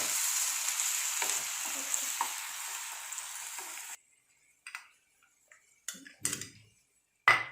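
Onion and tomato frying in oil while being mixed, a steady hiss of sizzling for several seconds, then quieter scattered scraping and stirring taps.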